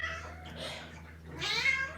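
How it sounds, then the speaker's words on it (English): A whiny house cat gives a drawn-out, rising meow close by, followed by a second louder, higher complaint, with steady low room hum underneath and no talking. "Hi, Sayomi. That's my cat."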